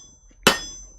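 A single sharp ringing strike of a heavy hammer on metal in a blacksmith's smithy, loud and close, with a bright metallic ring that decays quickly into near silence.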